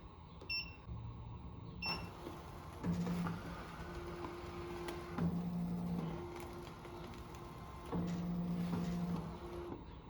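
Ricoma MT-1501 cap embroidery machine running a trace of the design on a cap, quiet whirring motor moves with repeated short tonal buzzes and a few beeps, close and alone.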